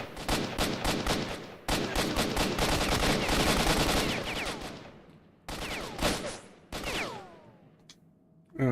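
Rapid gunfire from a semi-automatic weapon in the video game STALKER, loud, dense bursts of shots with short gaps between volleys and ringing tails as the firing breaks off.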